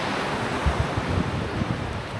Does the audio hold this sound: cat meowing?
no